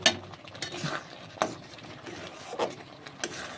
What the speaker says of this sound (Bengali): এখন এটা অনবরত নাড়তে থাকতে হবে।